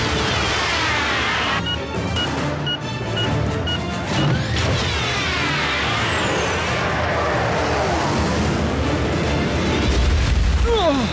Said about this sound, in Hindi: कैसा लगा ये धमाका?